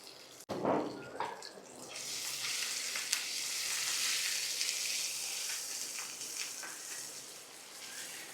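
Curry leaves dropped into hot oil for a brinjal curry, a sharp splash followed by a loud, sustained crackling sizzle that slowly settles, close by with no talking.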